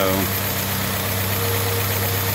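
A 1955 M38A1 army jeep engine with a freshly rebuilt Carter YS-950 carburetor idles steadily and close by, a low even rumble with a faint vibrating hum throughout.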